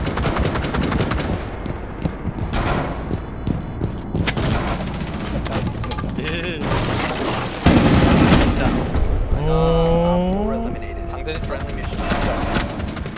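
Heavy, sustained automatic gunfire and explosive impacts fill a round of the tactical shooter game Rainbow Six Siege, loud and close, with players talking over the bursts.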